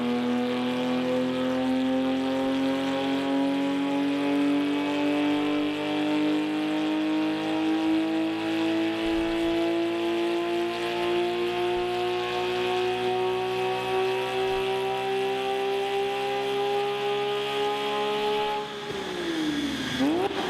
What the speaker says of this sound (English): Let's listen to this nice and slow dyno pull.